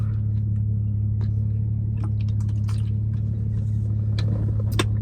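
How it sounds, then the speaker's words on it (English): A car approaches, heard as a steady low engine rumble that stays loud throughout, with a few faint clicks and brief sharper noises over it. "hold on. The car coming."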